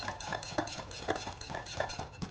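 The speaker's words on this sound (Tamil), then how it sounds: "லம்ஸ் எல்லாம் போகிற வரைக்கும் நல்லா மிக்ஸ் பண்ணிட்டு" Eggs being beaten into a batter in a bowl, a steady run of soft rhythmic taps and sloshing strokes with a low murmur behind.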